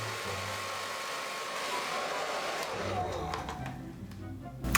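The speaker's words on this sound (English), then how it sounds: "I should probably also blow dry it" A hair dryer blows steadily on hair sprayed and spiked into liberty spikes, a continuous close whooshing drone with a brief louder burst at the end.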